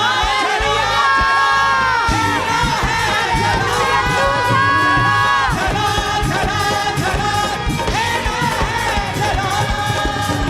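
A church congregation cheers, shouts and claps in praise of God, a loud, dense crowd roar with whoops and high voices sustained throughout, amid music.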